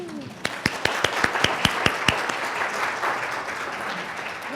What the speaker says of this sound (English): Extra applause for the 3 support groups